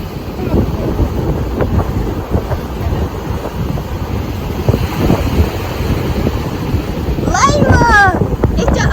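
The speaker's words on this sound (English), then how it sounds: "it's the ocean" Ocean surf breaks on the beach at Hunting Island while strong wind buffets the microphone in a loud, constant roar; a voice briefly cuts in near the end.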